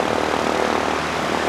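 Propeller airliner on Hamilton flight 627 arriving to land at an aero club field, a steady broadband engine and propeller drone holding at moderate distance without any talk.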